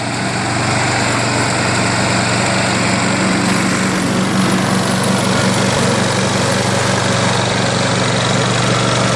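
Craftsman self-propelled lawn mower with bagger, its small engine running at a loud, steady drone close by, continuous throughout with no talk.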